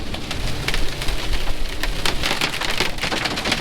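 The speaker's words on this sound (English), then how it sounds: "Wow, that is some driving rain right there" Heavy wind-driven rain hammers a truck on a New Mexico road during a tornado and hail storm, a loud, dense, continuous patter with sharp drop hits and no talking.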